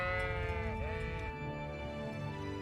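A sheep bleats in the medieval video game Kingdom Come: Deliverance, a loud, wavering, nasal call lasting over a second, with steady game ambience underneath.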